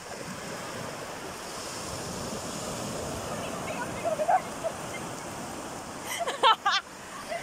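Sea waves wash steadily onto Radhanagar Beach on Havelock Island in the Andamans, a continuous surf hiss with wind, plus a few brief louder splashes and voices near the end.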